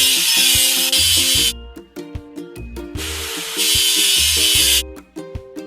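A power tool in a construction video game grinds rust off a machine in loud, harsh bursts that alternate with bright, tonal game chimes and clicks, with no talking.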